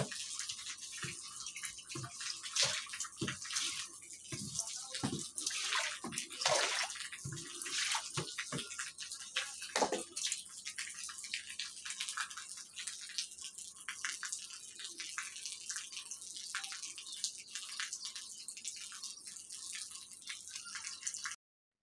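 Water splashes and runs across a balcony floor as it is rinsed during household cleaning, a steady wash of spatter and drips with a few sharper splashes early on, continuing close by without talk.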